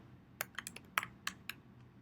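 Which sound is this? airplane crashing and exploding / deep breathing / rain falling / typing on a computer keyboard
typing on a computer keyboard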